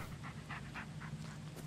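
A dog pants steadily in the Blair Witch video game, quick rhythmic breaths close by over a low hum of game ambience.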